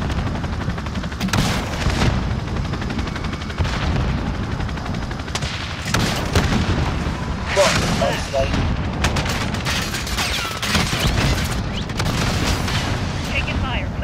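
Video game battle with continuous gunfire and explosions, dense loud bursts and booms throughout, with voices talking over the din.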